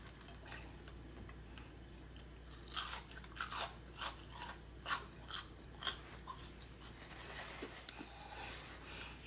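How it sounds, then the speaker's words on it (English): Battered dip fries being chewed: several crisp crunches and bites come in a cluster mid-clip, close to the mic and fairly quiet over a low steady hum, with no talking. "I am enjoying these battered dip fries"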